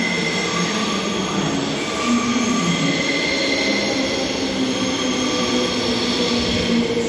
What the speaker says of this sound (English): Now arriving on a platform 8 Midland service.